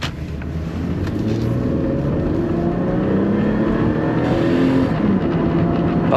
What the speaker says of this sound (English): See how the engine sounds in the upper RPM range.